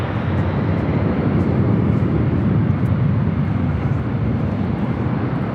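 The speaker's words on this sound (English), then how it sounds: "This takeoff is Delta Airlines 8815 taking off to Atlanta on the 757-200." Delta Airlines Boeing 757-200 taking off at LAX, a loud sustained engine roar filling the whole stretch with steady broadband rumble and no pauses.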